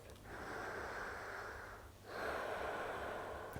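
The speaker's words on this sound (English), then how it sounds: "Final breath." A slow, deep breath during yoga practice: a long hissing inhale, a brief pause, then a long exhale, steady and fairly faint against a quiet room.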